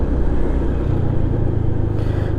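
Honda PCX 125 scooter ridden through traffic, a steady low engine hum and rumble with road noise, close and continuous without speech.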